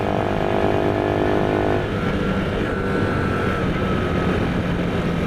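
An old 1966 motorcycle engine drones loudly at full throttle, a continuous close buzzing roar whose pitch shifts slightly partway through.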